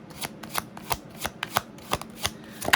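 Tarot cards being shuffled in quick, crisp bursts, about a dozen riffling snaps in steady rhythm, close and fairly quiet with no talking.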